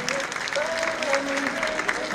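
Audience applause at a Muslim clothing fashion show festival in Kazan, a steady wash of clapping heard from a distance while a voice or music tone lingers faintly underneath.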